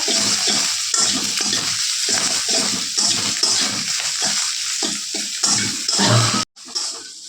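Curry simmering and bubbling in a pan beside fried eggs for a home breakfast, a steady close sizzle and bubbling throughout with a brief clatter near the end.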